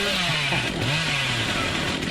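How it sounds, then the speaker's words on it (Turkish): The Hillbilly's chainsaw in the video game Dead by Daylight revs continuously, a loud buzzing engine whine with rising and falling pitch sweeps, steady and close throughout with no talk. "Killer elektrik testereyi çektiği zaman çok hızlı bir şekilde devam edebiliyor."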